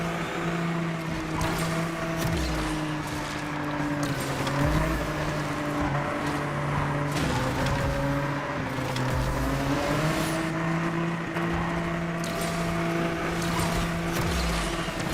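Race car engines in the video game Asphalt Legends, a loud, continuous high revving drone with shifting pitch that holds steady throughout, with no talk over it.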